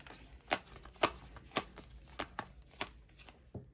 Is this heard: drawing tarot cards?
yes